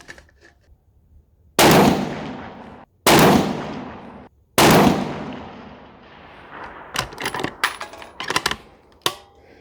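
Three loud, close rifle shots from a 6.5 Creedmoor RPR with a new 24-inch Krieger barrel, each a sharp blast with a ringing decay, spaced over a few seconds at a range, followed by quick metallic clinks of the bolt and brass.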